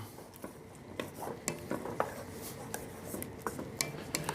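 Tomatoes and garlic stirred in a pan for arrabiata sauce, with a steady rhythm of spoon clinks and scrapes against the pan over a faint sizzle.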